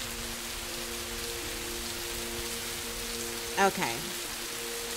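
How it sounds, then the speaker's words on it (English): Rain in the Rising World video game hisses steadily and loudly throughout, with a constant low hum underneath and a brief spoken word near the end. "Every time it gets rainy in here, it gets a little bit loud in my ears."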